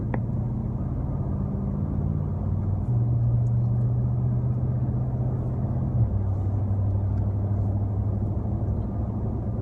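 Car engine cruising on a highway at about 1,600 RPM, a steady low drone and road rumble from inside the cabin, with the pitch stepping down twice as the engine settles and no voices.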